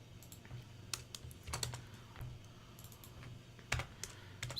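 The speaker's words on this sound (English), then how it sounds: "let's type that formula here to get the cell length" Someone types a spreadsheet formula on a computer keyboard, producing soft, irregular key clicks with occasional louder taps, close and quiet against a faint background hum.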